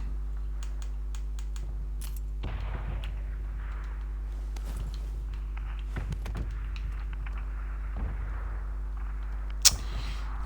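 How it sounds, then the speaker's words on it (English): Cluster bombs in PUBG go off as a scattered series of distant blasts and sharp cracks spread over several seconds, fairly faint against a steady low hum, with one louder hit near the end. "Cluster bombs."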